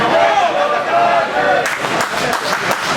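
A live wrestling crowd on Staten Island cheers and claps steadily at an independent show, a loud, continuous roar with sharper bursts of applause toward the end, while a commentator talks over it.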